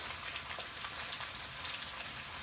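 Minced garlic fries in a pan with a continuous, fairly soft hiss and fine crackle, even from start to end.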